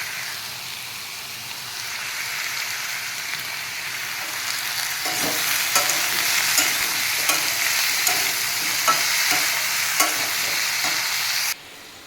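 Food sizzles in a hot pan with salt and turmeric, with a steady frying hiss and repeated scraping strokes of stirring that grow busier toward the end before cutting off abruptly.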